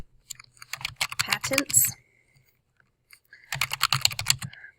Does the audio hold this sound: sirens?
no